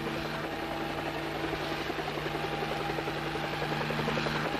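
A helicopter flies with a steady, droning rotor thrum that holds even and continuous throughout, fairly close and alone.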